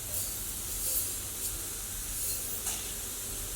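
Pineapple pieces sautéing with sugar in a hot pan give a steady, soft sizzle and hiss throughout, fairly quiet and close, with no voices.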